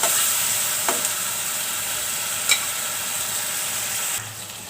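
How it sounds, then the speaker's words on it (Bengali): Spice masala fries in a pan for a beef curry with a loud, steady close-up sizzle and hiss, broken by a few brief scraping stirs. "এখন মশলাটা একটু কষিয়ে নেব।"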